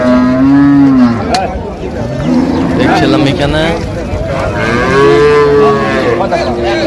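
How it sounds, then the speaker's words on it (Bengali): A cow and calf mooing at a busy rural cattle market in Dinajpur, several loud drawn-out moos close by, overlapping with people talking nearby throughout. "গাভী বাছুর আমরা দেখছিলাম এখানে"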